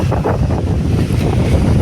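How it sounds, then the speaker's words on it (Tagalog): Loud wind buffeting the microphone over a heavy roar of big crashing surf at Dahican Beach, Mati, Davao Oriental, rough and continuous, no voices. "mahangin at malalaki yung alon"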